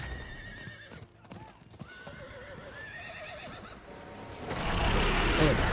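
A horse in the Diablo 4 game whinnies several times in rising and falling calls over a steady clip-clop of hooves. A louder rush of galloping and noise builds toward the end.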